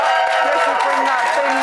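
Studio audience on a late-night entertainment panel show breaks into steady applause mixed with crowd noise, loud and continuous throughout with no individual voices standing out.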